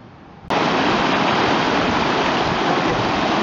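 A mountain river in Boulder County, Colorado, rushes in a loud, dense, continuous roar that cuts in abruptly after a quieter moment and holds steady and close throughout, with no voices.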